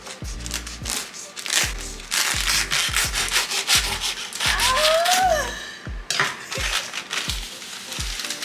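A knife cuts through a rolled-up wrap on a board, with repeated crunchy scraping strokes and soft thumps, plus a brief squeaky rub in the middle; close and moderately loud.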